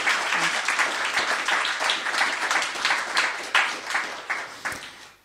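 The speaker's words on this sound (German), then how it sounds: "Vielleicht einfach einmal eine Runde Applaus für die Autorin." An audience at a book reading and conversation event claps for the author, a steady round of applause lasting several seconds with no talk over it, tapering at the end.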